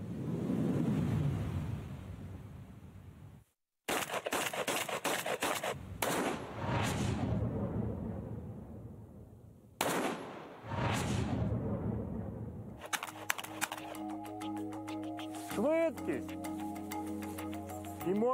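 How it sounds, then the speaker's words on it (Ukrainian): Military smoothbore shotgun fire: heavy broadband blasts in a few separated bursts, with a rapid volley of shots near the end, under a narrating voice. "То один постріл шикарного дробовика дорівнює 9 пострілам з пістолета."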